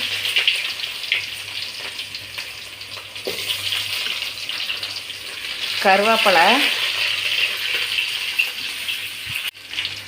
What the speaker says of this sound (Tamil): கருவேப்பிலை போட்டு வெங்காயம் வணக்கிட்டு இருக்க பாருங்க ஃப்ரெண்ட்ஸ்